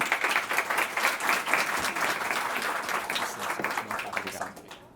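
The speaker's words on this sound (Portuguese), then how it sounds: "Uma salva de palmas." Audience applause breaking out at a panel session on alternative funding for foundations, dense steady clapping filling the room and fading off at the end.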